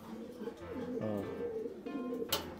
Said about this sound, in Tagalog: Ayan mga kalapatids oh.